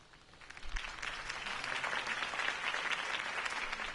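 Crowd applause after a campaign speech for a city election, a dense steady wash of many hands clapping that swells after the first second and holds, fairly faint and distant.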